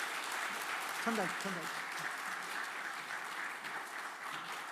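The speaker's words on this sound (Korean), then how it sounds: "우리 박수 부탁드리겠습니다" Clapping from a Korean church congregation during a Sunday morning service in Ulsan after a certificate presentation, a fairly soft, steady patter with a brief spoken word near the start.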